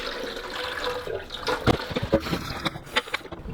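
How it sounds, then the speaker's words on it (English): Warm water splashes and runs while a Delonghi Magnifica coffee machine's water tank is rinsed out, a close, gushing stream with uneven sloshing bursts that trail off at the end. "I'm just going to give it a quick rinse out again with warm water."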